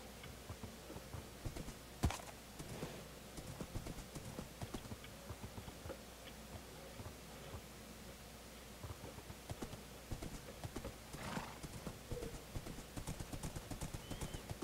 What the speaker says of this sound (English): Oh, there's another horse and a chicken.